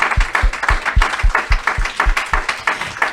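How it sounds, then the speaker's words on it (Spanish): A church congregation applauds in steady, rhythmic unison clapping, loud and close, with a faint voice mixed in. "vamos a dar un aplauso al Señor por eso"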